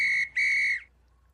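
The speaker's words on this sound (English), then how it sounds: "Tick-Tock Bunny blew his whistle again" A referee's whistle marks the end of a soccer match with two shrill blasts, a short toot and then a longer held one, clear and alone against a quiet background.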